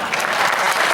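Dense, continuous clapping from a large audience at a Hindi comedy poetry gathering in a hall in Bhilai, loud and close, filling the whole second with no voice on top.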